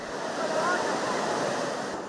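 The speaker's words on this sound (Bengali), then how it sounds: "বিশাল ঢেউ আর প্রবল বাতাসের তোড়ে টিকতে পারছে না মাছ ধরার ট্রলার" Rough surf of a stormy sea under a low-pressure system roars steadily on the coast, with strong wind buffeting the microphone, a continuous loud wash with no voices.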